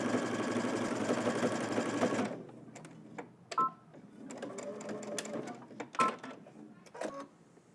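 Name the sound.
sewing machine stitching a seam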